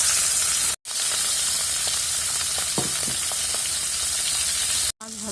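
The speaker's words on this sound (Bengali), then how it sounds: "মাছগুলোকে লবণ হলুদ মাখিয়ে নিয়েছি, এখন কড়াইতে ভেজে" Sea fish coated in salt and turmeric frying in a wok, a loud, constant crackling sizzle close up, broken by two brief moments of silence.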